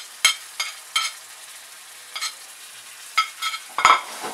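Chopped tomato masala fries in a pan while a spoon stirs it, giving about ten short, sharp scrapes and clatters in an irregular rhythm over a faint, quiet sizzle.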